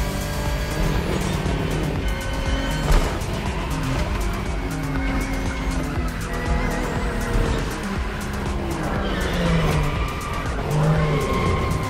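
Acura NSX GT3 race cars in The Crew Motorfest touring event, engines droning steadily at high revs with repeated tire squeal and skidding through corners, loud and continuous with no talk.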